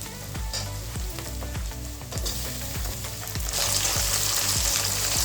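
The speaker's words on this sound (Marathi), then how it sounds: "कांदा, लसूण, अद्रक आणि मिरची हे फ्राय होते तोपर्यंत आपण टमाटे कापून घेऊ" Onion, garlic, ginger and chili fry in a pan for crispy chicken chilli, giving a steady loud sizzle with rhythmic stirring clatter. The sizzle grows louder toward the end, and nobody speaks.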